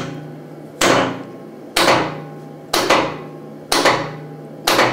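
Hand hammer striking a hot metal key at a blacksmith's forge: five loud, ringing blows spaced about a second apart, each sharp impact trailing into a brief metallic decay, with no talking.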